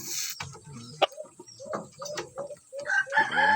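Bulik breeder gamecock crowing close by, a drawn-out harmonic call rising toward the end, with short clucks and scratchy movement noises before it; no talk.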